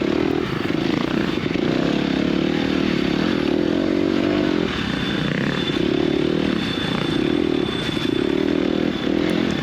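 A dirt bike engine drones and revs steadily during a muddy harescramble race, a continuous loud buzzing roar with slight rises and dips in pitch across the whole stretch.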